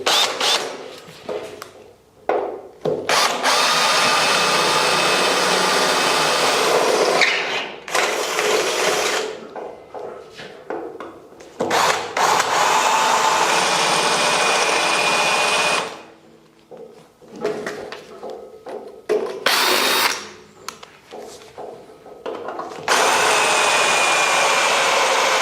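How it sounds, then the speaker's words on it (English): A power drill bores pilot holes into a Land Rover 300Tdi chassis in a home garage. It runs in several loud, sustained bursts separated by short pauses, with no talking. "So I'm just starting off the pilot drill."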